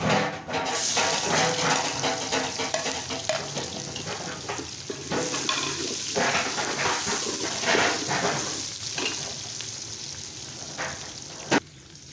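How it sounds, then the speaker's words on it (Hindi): Onions hiss and crackle as they fry in hot oil, a loud close sizzle broken by repeated stirring scrapes and bursts, with one sharp knock near the end and no talking. "ऑयल हमारा गर्म हो चुका है, अभी हम प्याज डालेंगे।"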